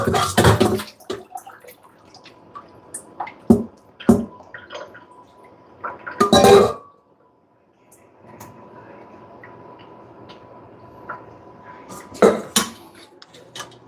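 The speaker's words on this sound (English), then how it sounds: "I'm just draining off my broccoli here." Cooked broccoli drained in a kitchen sink: clattering pot and metal knocks over a steady rush of pouring water, with several sharp clanks near the start and end.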